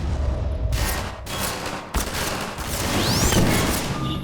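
Dense, continuous gunfire in the video game Half-Life 2, rapid bursts of shots layered with ricochets and impacts, loud and sustained throughout.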